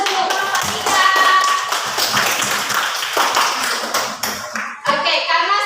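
A children's classroom breaks into a burst of clapping for a presenting group, with many small hands tapping in a busy patter under children's chatter.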